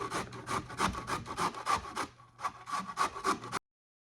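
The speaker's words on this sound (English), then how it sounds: "Use the big side of the grater. So all you do is grate it." A head of cauliflower rubbed down the coarse side of a grater gives off a quick run of rhythmic rasping strokes, close and steady, with a brief pause midway before the scraping resumes.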